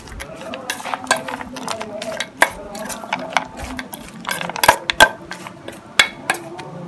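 Peanut masala being mixed with crushed pappadam makes irregular crunchy scrapes and clinks of a spoon against a dish, close up, in uneven bursts with no speech.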